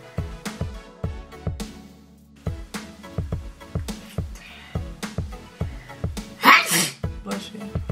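A single sneeze bursts out near the end, loud and close, set against rhythmic thumping music and someone talking during a gel polish kit session.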